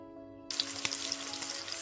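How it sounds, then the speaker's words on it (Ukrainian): Zucchini coated in flour and egg-sour cream sauce sizzles and crackles in hot oil in a pan, starting abruptly after a quiet moment and continuing steadily, close by. "смажимо в олії на розігрітій сковороді"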